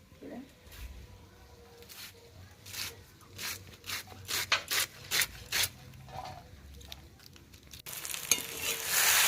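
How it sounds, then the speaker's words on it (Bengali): A spice paste with potatoes fries in a pan with a low sizzle. Rhythmic scraping strokes of stirring run through the middle, and a louder hiss swells at the end. "মশলাটা আগে কষিয়ে নিলাম।"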